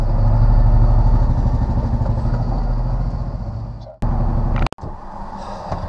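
A class 2 truck drives on residential streets with a loud, rumbling diesel engine that slowly fades. The sound cuts off abruptly, then resumes at a steadier level after a couple of brief breaks.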